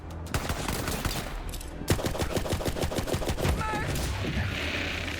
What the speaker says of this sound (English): I know it's a pistol.